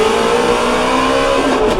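Ford Mustang GT350 engine accelerating hard out of a corner at Circuit of the Americas, a loud, close, rising roar with no talk over it.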